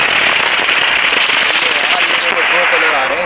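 A firecracker burning with two colours fizzes and crackles continuously, a dense loud hiss with scattered pops, while someone talks excitedly over it in Hindi.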